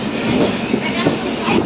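Passing train near Guntakal junction, India, a steady broadband rumble of rolling wagons with faint rhythmic clatter, continuous and fairly loud for the whole stretch.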